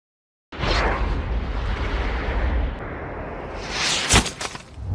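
A loud, sustained blast of sniper rifle gunfire rumbles for several seconds, followed by a sharp crack and a fading echo, with no voices.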